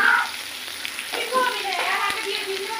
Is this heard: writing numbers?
no